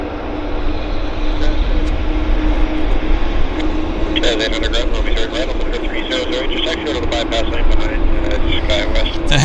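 A heavy jet airliner on approach at Vancouver airport gives a loud, steady engine roar with a rising whine, while people talk over it throughout.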